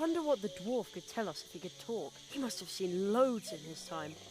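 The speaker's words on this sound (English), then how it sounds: "I think I can hear a cricket chirping in the barrel." Cricket chirping inside a barrel in the video game The Night of the Rabbit, a thin, steady high chirping running quietly beneath a character's speech.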